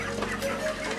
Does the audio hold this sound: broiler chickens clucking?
yes